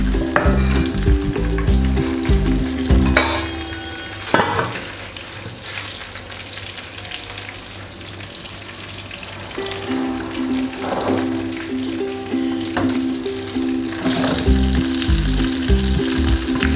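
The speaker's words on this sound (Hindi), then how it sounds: "तो अब इसमें हम डालते हैं जी ज़ीरा, मोटी सुर्ख मिर्च डालते हैं" Cumin seeds and thick dried red chillies frying in hot tadka oil with onions for a mixed dal, a steady loud sizzle running throughout with brief stirring scrapes, no talking.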